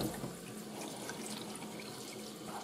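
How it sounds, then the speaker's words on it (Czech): Cold water runs steadily from a tap into a blender jar for nettle lemonade, a close, even rushing splash with no talking. "přidáme tam studenou vodu"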